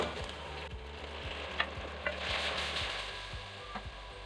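Tomatoes added to masala frying in a pan, a steady close sizzle with repeated scraping strokes of a spoon stirring, no talking.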